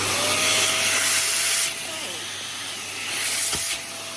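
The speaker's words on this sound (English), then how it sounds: "I cannot Hoover and hold this at the same time." A 2023 Vax Airmax Stretch vacuum cleaner runs with a steady, close, loud rushing hiss and a thin whine that drops in level midway, then swells again briefly before easing off.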